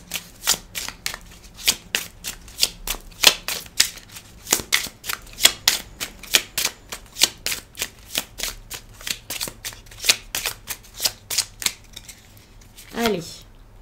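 Oracle cards being shuffled and drawn in a rapid run of crisp riffling slaps, close and clear, ending with a brief voice.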